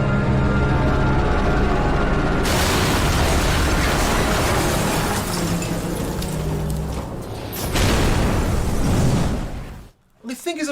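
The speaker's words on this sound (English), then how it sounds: "I think it's a pretty good crash and explosion scene." A plane crashes into a mansion in a Resident Evil: Welcome to Raccoon City scene, a loud sustained roar of impact, debris and fire that swells, then cuts out abruptly near the end.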